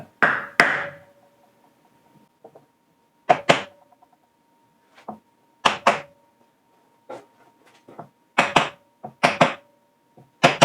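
A hammer strikes a small block of wood held against a John Deere LT190 lawn tractor part, giving sharp, separate taps in irregular bursts with quiet gaps between them, and a faint steady hum underneath.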